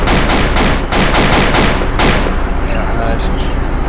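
Rapid bursts of military gunfire during a British 16 Air Assault Brigade exercise, Operation Oryx, a fast string of loud close shots in the first two seconds, then a quieter rumbling tail with faint voices.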